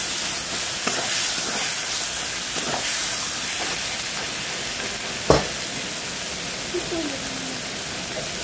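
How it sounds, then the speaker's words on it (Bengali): Spice masala for egg curry fries in a wok while being stirred, a loud continuous sizzle broken by scraping strokes and one sharp clank of the spatula near the middle, with no talk. "একটু নাড়াচাড়া করে মশলাটাকে একটু কষিয়ে নেবেন"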